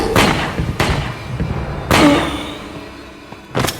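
Gunfire in a supernatural action-cam video game: four heavy, booming shots spaced irregularly, loud and close, each decaying with a dull rumble.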